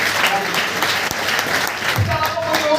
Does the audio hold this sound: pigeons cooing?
no